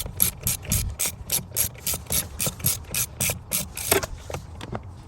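Repeated ratcheting clicks, close and fairly quiet, sound as a Torx 30 bit turns a coil pack bolt on a Mercedes R230 SL55 AMG M113k V8, in short even bursts with no talking.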